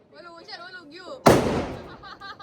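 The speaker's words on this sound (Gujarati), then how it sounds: "પપ્પા ને વિશાલ હામે હામાં ફટાકડા ફોડે છે મિર્ચી." A single sharp mirchi firecracker bursts during a Diwali celebration, one loud crack with a decaying rumble, following a stretch of voices talking; voices resume faintly after.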